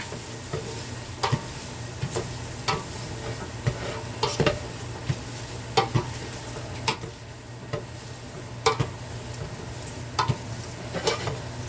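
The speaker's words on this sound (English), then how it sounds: "Put my asparagus and mushrooms in there." Asparagus and mushrooms sizzling in butter in a frying pan, a steady close crackling hiss broken by repeated clicks and scrapes of stirring utensils.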